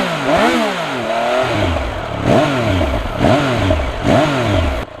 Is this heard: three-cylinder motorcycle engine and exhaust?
yes